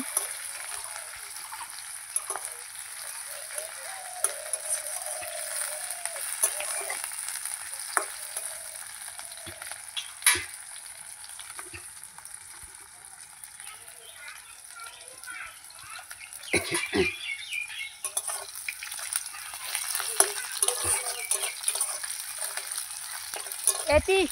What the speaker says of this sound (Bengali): এখন এগুলো নাড়াচাড়া করে নেব। সুন্দর করে নাড়াচাড়া করে নিচ্ছি।